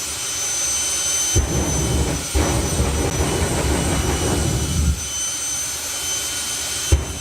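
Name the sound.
jet dragster with Pratt & Whitney J60 jet engine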